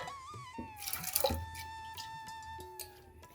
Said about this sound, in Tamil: நான் பருப்பை வந்து நல்லா கழுவி நல்லா கழுவிட்டேன் கழுவிட்டு வேக போடுறேன்